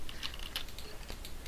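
Quick clicky typing on a computer keyboard during a Minecraft game, a steady patter of close keystrokes alone with no talk.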